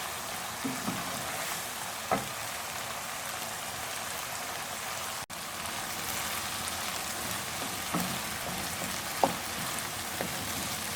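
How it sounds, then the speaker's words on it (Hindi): Green peas frying with masala and green chillies for matar pulao, a steady soft sizzle running throughout with a few faint clinks of a utensil against the pan. "आपको 10 सेकेंड इसको मटरों के साथ इस तरह से फ्राई करूँगी।"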